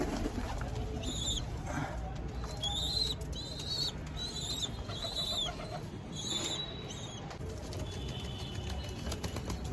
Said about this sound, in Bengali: এই 2টো পায়রা ওষুধ নিয়ে এসে খাইয়েছি, পায়রা অনেকটা ফিট আছে